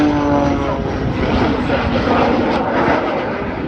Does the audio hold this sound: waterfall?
no